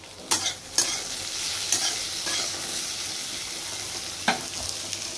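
A vegetable curry cooking in a pan, a soft steady sizzle punctuated by a few sharp scrapes and clinks of a spoon stirring against the metal, fairly quiet and with no voices.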